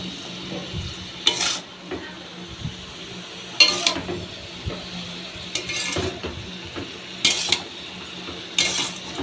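Pumpkin greens sautéed with salt and turmeric in a pan, a low steady sizzle punctuated by five or six sharp clinks and scrapes of a utensil against the pan at irregular intervals.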